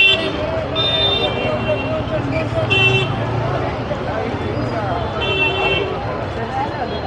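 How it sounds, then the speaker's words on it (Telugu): Busy street traffic jam near Chickpet, Bangalore, with a steady roar of engines and intermittent car and bus horns honking nearby, over a continuous background of crowd babble. "బా ఫుల్ ట్రాఫిక్ జామ్ అయిపోయింది చూడండి."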